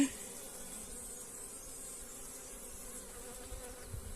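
Honeybees from a queenless split in an opened hive, a dense, steady buzzing hum close by that stays even throughout, with no talk.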